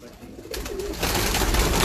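A breeder's pigeon from a master's loft coos softly and close by, a low throaty call rising in a short burst over light background noise.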